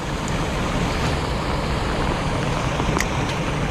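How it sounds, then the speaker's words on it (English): Heavy rain pours steadily around a fishing boat, a dense even hiss of drops filling the air with no let-up and no talk. "this rain is just getting heavier and heavier"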